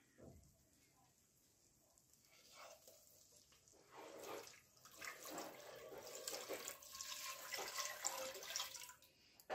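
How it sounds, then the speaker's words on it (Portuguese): About 450 ml of water is poured into a pan of melted margarine while making risole dough. A soft trickle builds into a louder, steady splashing rush that continues to the end. "Agora, eu vou colocar a água."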